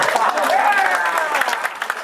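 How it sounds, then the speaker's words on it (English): Wedding guests clap at a dinner reception in a steady, dense patter, with voices and a few cheers mixed in close by. "So go ahead, clap."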